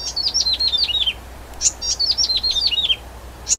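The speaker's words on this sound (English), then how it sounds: "you will invariably hear the song of the yellow-bellied prinia" Song of a yellow-bellied prinia near Taiwanese waterways: two clear phrases of quick, high, descending chirpy notes, each ending in a short sharp call, heard close against a quiet background.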